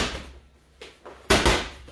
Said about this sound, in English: two twist slams.